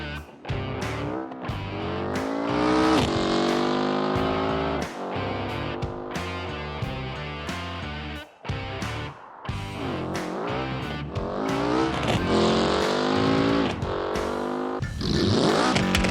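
An Autobella Piccolina drag car on its default drag tune makes a loud, close full-throttle run, its engine winding up repeatedly through rising gear changes over sustained roaring, with no talking.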